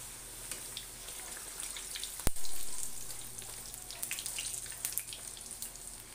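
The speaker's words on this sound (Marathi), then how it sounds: "आता आपण कडाकणी तळायला घेऊया." Kadkani dough pieces frying in hot oil give a steady, fine, bubbling sizzle throughout, with one sharp knock near the middle and a faint low rumble beneath.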